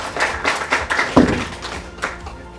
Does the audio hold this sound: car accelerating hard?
no